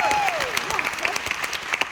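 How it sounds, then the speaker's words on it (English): Audience applause at a Cobra Kai Q&A panel at Liverpool Comic Con, a dense steady patter of many hands with some crowd noise, while a voice speaks over the clapping. "Round of applause for yourself"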